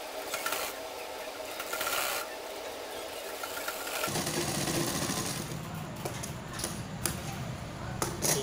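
A sewing machine stitches a waistcoat jacket in short bursts of close mechanical whirring and clatter, falling to quieter handling sounds between runs, with a more continuous run after the midpoint.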